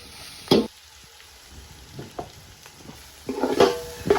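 Chicken pieces frying with garam masala in a pan for chicken fried rice, a low sizzle broken by sharp scraping stirs and clatters, close, loudest toward the end, with no talking.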